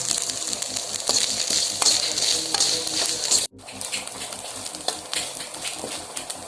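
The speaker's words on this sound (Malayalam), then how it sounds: "അതുകൊണ്ട് എല്ലാവരും അത് ശ്രദ്ധിക്കണം, ഇളക്കി തന്നെ വറക്കണം. വറക്കുന്നതിൻ്റെ ഒപ്പം നമുക്ക് ഇത്രയും പെരിഞ്ജീരകം ഇട്ട് കൊടുക്കാം." Spices with fennel seeds roast in a pan while being stirred for a Kerala-style roasted country chicken curry, a loud continuous dry sizzle with scraping spoon clicks and a brief break partway through.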